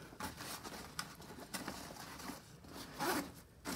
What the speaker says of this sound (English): that zipper sucks. It's just really tight.